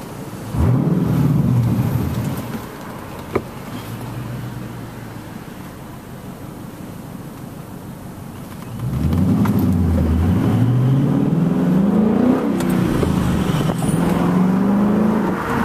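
A Ford Mustang engine drones steadily on a course, then revs up loudly and climbs through the gears as it accelerates, the pitch rising and falling with each shift.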